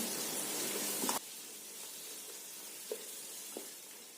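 Garlic and onion sautéing in a pan for Ambur-style biryani: a loud, bright sizzle for about a second that suddenly drops to a faint hiss, followed by two light stirring taps.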